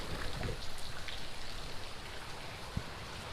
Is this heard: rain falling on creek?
yes